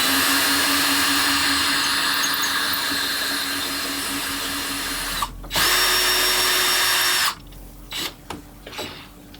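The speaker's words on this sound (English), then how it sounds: "I can just start to drill" A power drill whirs steadily for several seconds drilling a guide hole during DIY CNC gantry assembly, briefly stops and restarts with a higher whine, then cuts off, leaving short scraping noises.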